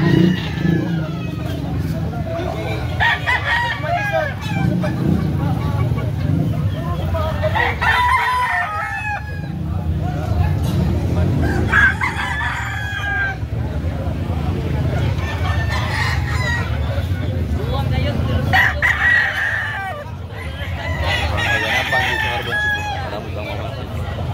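Roosters at a Cebu City market crow over and over, loud and close, with clucking fowl mixed in. Voices and occasional traffic carry on underneath.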